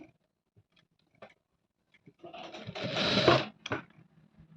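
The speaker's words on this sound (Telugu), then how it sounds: "ఇలాగా ఇక్కడి నుంచి స్టిచ్ చేసుకుందాం" A domestic sewing machine runs a short burst stitching piping onto fabric, opening with scattered light clicks and then settling into a steady close mechanical whir for about a second before stopping with a few final taps.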